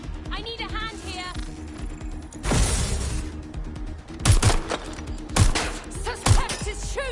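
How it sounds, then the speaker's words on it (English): Gunfire in the video game Watch Dogs: Legion, loud bursts of shots and sharp cracks among several short salvos, mixed with game voices and background noise. "Suspect is shooting! Shots fired!"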